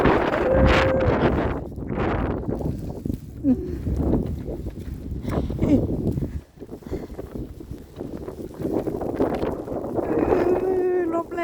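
Strong wind buffets the microphone outdoors during snowfall, gusting in loud rumbling bursts throughout, with a person talking faintly underneath.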